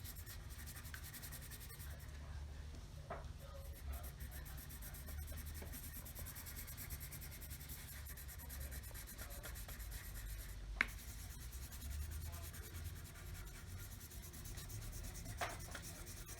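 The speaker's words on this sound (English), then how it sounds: "I'm just using a colored pencil now, and I'm just going to color all the petals of my yellow daffodils with the yellow." A yellow colored pencil rubs across paper as daffodil petals are filled in, a quiet, continuous scratchy stroking with a few faint taps along the way.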